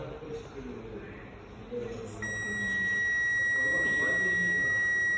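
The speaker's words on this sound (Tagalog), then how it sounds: "Almost infinite 0, and there is a long beep." A digital multimeter gives a long, steady continuity beep while testing a shorted BJT transistor on a bench, the high tone sounding continuously for the last few seconds over low room noise.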